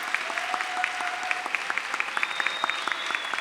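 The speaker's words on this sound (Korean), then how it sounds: "다시 한번 박수 부탁드립니다" Church concert audience applauds a soprano during a narrated reading concert, a steady, moderately loud patter of many hands with a few sharper individual claps standing out, a faint sustained tone running beneath.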